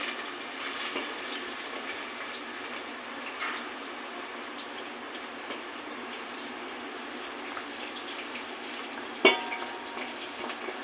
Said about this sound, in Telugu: ఆయిల్ వేడెక్కింది పచ్చిమిరపకాయలు ఉల్లిపాయలు వేస్తుంది